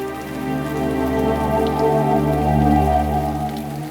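Steady rain falls continuously and evenly, a dense wash of drops on surfaces with no gaps, while a low tonal backing sits underneath throughout.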